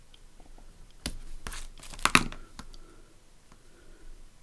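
Paper being trimmed for a shabby chic accordion journal gives a few sharp, close snips and crunchy tearing sounds in quick irregular bursts, with quiet pauses between them.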